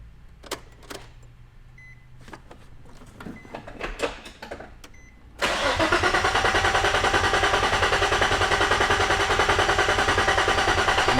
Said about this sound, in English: Now it might crank for a little bit. Might crank for a little bit longer.